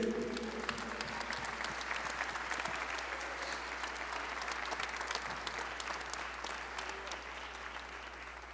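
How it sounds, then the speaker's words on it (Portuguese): A church congregation applauds steadily and at length, a continuous wash of many hands clapping at a fairly low level with a hum beneath, no one speaking over it. "vamos aplaudir a Ele."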